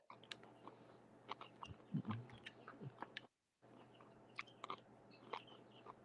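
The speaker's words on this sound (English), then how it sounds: "Quit chewing in the back," Someone chewing food close to the microphone, with irregular wet crunches and smacking bites over a faint steady hum, broken by a brief silent gap.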